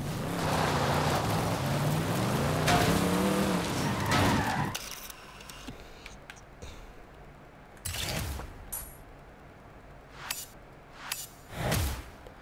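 Car driven in the video game Forza Horizon 5, a loud engine roar with tire skidding for several seconds, then quieter stretches broken by a few brief whooshing passes and skid bursts.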